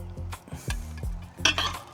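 Metal cookware, a frying pan and saucepan, clanks and knocks as they are moved and set down inside a converted camper car, a few close hits with short scraping, no voices.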